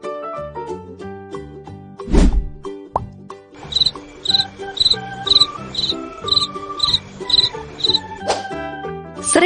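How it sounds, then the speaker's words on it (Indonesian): A cricket chirps in a regular series of short, high pulses, evenly spaced and fairly loud, layered over light background music. "Jangkrik."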